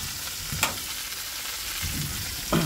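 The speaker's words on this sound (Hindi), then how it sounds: "अब दोस्तों डाल देता हूँ इसमें पत्ता, पत्ता को मैं फ्राई होने दूंगा" Leaves fry in a pan for soya chilli, a steady close sizzle with a few soft stirring knocks and scrapes against the pan.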